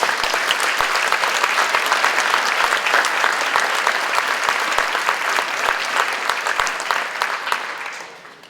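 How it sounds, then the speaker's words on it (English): A concert audience applauds a school winter band, dense steady clapping that holds loud for several seconds before fading out at the end. "So another round of applause for them."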